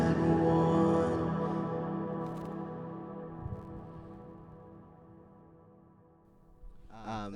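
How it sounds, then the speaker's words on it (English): Auto-tuned vocal harmony choir effect in Ableton, heard as stacked, evenly pitched sustained voices that sound layered and slightly robotic, fading gradually with a short warbling sweep at the end. "I'm mostly just showing you the hack of using this auto-tune software to get harmonies"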